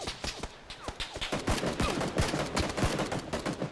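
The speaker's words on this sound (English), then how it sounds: "He's shooting from the red container" Gunfire in the PUBG battle royale game, rapid bursts of automatic weapon shots mixed with single cracks, dense and continuous at moderate loudness with no talk over it.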